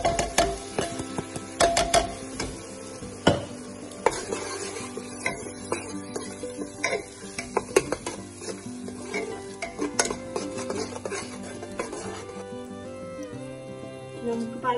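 Ground onions go into a frying pan with browning goat meat and are stirred, giving loud repeated scraping and clattering strokes over a steady sizzle, close up, with no talking.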